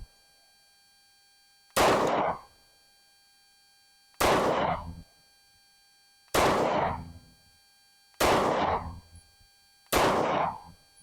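Five loud, single gunshots from a Tisas 1911 Carry .45ACP pistol with a 4.25-inch barrel at a shooting range, evenly spaced about two seconds apart, each a sharp crack with a short echoing tail.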